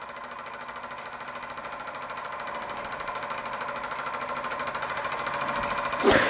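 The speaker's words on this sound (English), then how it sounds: "Little scratch-built oscillating engine of unknown origin, running under steam for the first time since I've restored it" A restored, scratch-built, Mamod-style oscillating model steam engine runs under steam with a rapid, even chuffing beat that grows slightly louder, ending in a short, sharper burst.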